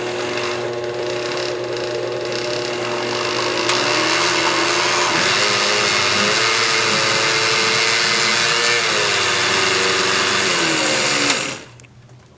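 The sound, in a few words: blender running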